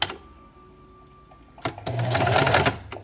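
A home sewing machine set to straight stitch, sewing fabric for a newborn baby sleeper: a quiet hum first, then the motor kicks in with a loud, steady rapid stitching whir before stopping.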